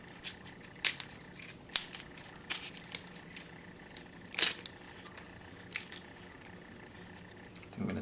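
A knife cuts down through an onion on a board and the dry skin is peeled away: sparse, close, sharp clicks and crisp snaps spaced a second or so apart, with quiet between them and no talking.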